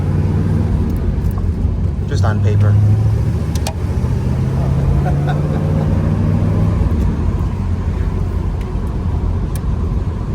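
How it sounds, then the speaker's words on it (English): A 1969 Chevrolet Corvette convertible with its numbers-matching 350 hp 350 V8 and four-speed, top down, gives a steady low exhaust drone throughout, heard from inside the car while people talk over it. "When you're standing behind a car, you get a little tone out of the exhaust, but when you're inside it, it's just right."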